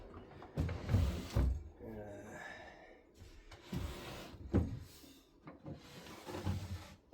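The drawers of an 1860 S W Silver military campaign chest, an antique, are handled with several wooden knocks, slides and bumps at irregular intervals, fairly close. Faint breathing or sighs are heard between them.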